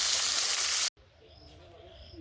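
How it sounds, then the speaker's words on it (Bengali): Fish frying in hot oil: a loud, harsh burst of sizzling that cuts off abruptly, followed by a much quieter, low background hiss of the pan. "মাছটা ভাজা হয়ে গেলে সব মাছ ভাজা হয়ে যাবে"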